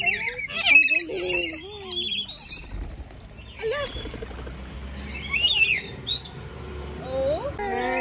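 Birds at a safari park squawk in harsh, repeated bursts mixed with chirps and flapping, close and loud, while people chatter nearby between the calls.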